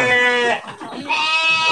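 Large jumbo sheep bleat in a well-kept pen, two long, loud, wavering bleats from nearby with a short break between them.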